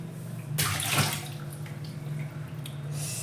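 Water splashes and pours in a burst, then settles into a softer trickle, with a steady low hum running underneath.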